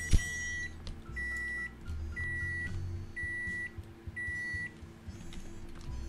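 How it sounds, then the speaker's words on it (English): A microwave hums steadily in the game Size Matters, its drone broken by a run of evenly spaced high beeps, five in a row, each lasting about half a second. "The Martini microwave."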